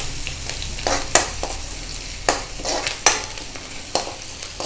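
Onion and curry leaves fry in a pan for Kerala cabbage thoran, with a bubbling sizzle broken by a spatula scraping and tapping about once a second, close up and with no voices.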